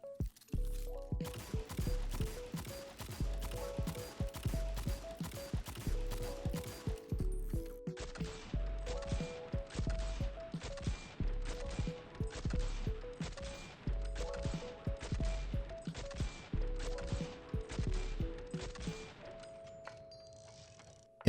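The Sturm, a 120 hand cannon in Destiny 2, fires in long steady runs of sharp evenly spaced shots with metallic mechanical clicks and reload clatter between bursts, close and loud with no voices.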